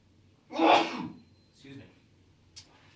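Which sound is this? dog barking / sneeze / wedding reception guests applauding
sneeze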